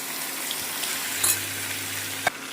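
Spiny gourd tipped into a hot oil tempering sets off a continuous close sizzle, with a couple of brief clattering knocks partway through.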